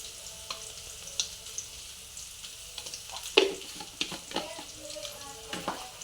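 Onion with a little salt roasting in oil in a pan while cooking a filling for idli and dosa, a soft steady sizzle with occasional stirring clicks and scrapes.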